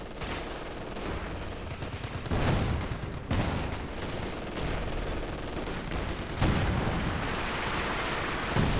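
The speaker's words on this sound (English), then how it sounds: "there we go, artillery firing down" Continuous artillery fire and heavy gunfire in a Company of Heroes 2 multiplayer battle, dense overlapping booms and bursts filling the mix at a steady loud level, with intermittent heavier blasts and no voices.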